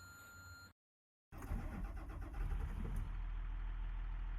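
A Cat C7 diesel engine in a Blue Bird bus idles steadily after a brief cut in the sound, a deep rumbling drone close by with no talking.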